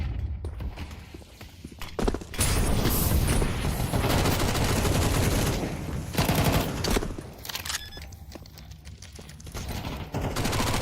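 P250 pistol gunfire in a Counter-Strike match, fast bursts of sharp cracks in dense volleys that stop and restart several times, loud and close, with brief quieter gaps between exchanges and no talk.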